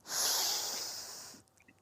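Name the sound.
person breathing in deeply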